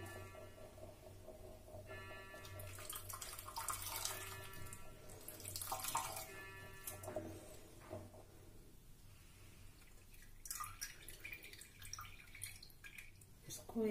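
Tap water runs and splashes in a kitchen as butter skimmed from cream is rinsed in clean water in a pot, a steady hiss with sloshing and dripping under a voice speaking Hindi.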